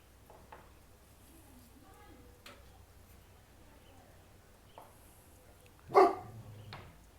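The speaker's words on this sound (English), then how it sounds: "So if you hear dog barking in my videos" A single sharp dog bark rings out nearby, with a few faint earlier yips, over a quiet background at a koi pond.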